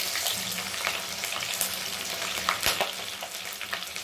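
Green chillies and garlic sautéing in hot oil with mustard seeds, a dense, continuous close sizzle with frequent spatula scrapes and one brief knock.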